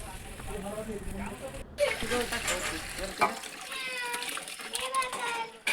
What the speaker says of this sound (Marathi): मसाला परतला गेला की मग आपण शिजवून घेतलेलं मटण त्याच्यावरती टाकून त्याची फोडणी करून घ्यायची